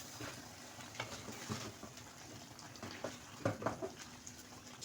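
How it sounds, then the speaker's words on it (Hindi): A tempering of green coriander and green chillies is poured into cooked mixed vegetables and stirred, giving faint sizzling and soft scraping with a few louder clatters near the end. "ये जाएगा हरे धनिया और हरी मिर्चों का भगार सब्जी में"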